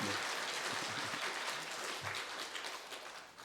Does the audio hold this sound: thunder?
no